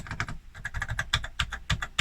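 Quick, steady typing on the full travel keyboard of an Oric Atmos home computer, crisp close-up clacks in a fast irregular rhythm with no voices.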